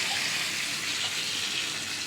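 Leftover water pours steadily into a jar of lemon pickling brine made with salt, sugar and vinegar, a close, continuous splashing rush that runs alone without a break.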